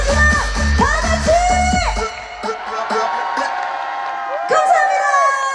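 An outdoor concert crowd at a jujube festival shouts and cheers on cue, with loud whoops and yells swelling in bursts beside amplified voices and music.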